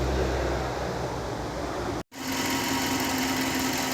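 The engine of a 2003 Subaru Forester runs steadily with a close, even mechanical hum. A brief dropout occurs midway, then the running note resumes with a faint steady whine.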